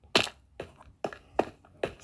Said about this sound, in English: So that noise is just me walking.